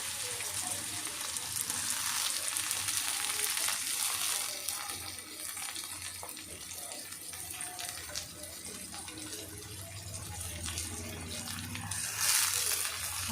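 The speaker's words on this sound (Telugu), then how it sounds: "ఉల్లిపాయ చూసారా, ఆనియన్స్ వేగిపోతున్నాయి." Onions frying in a pan with shahi jeera, a dense steady sizzle and crackle that swells and eases across the clip, close up and with no talking.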